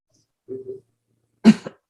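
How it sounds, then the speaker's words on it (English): A short muffled hum-like sound followed by one sharp, close cough, with nothing else around it. "all of a sudden I start coughing"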